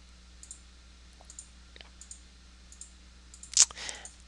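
Light mouse clicks sound while placing polygon points in quilt design software, a sparse series of faint single clicks spaced a second or so apart over quiet room tone, ending in a louder burst of clatter.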